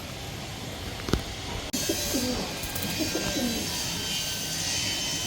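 A male pigeon on a rooftop garden coos at a female in a few low, rolling phrases, fairly close, over steady broadband background hiss after a brief thump.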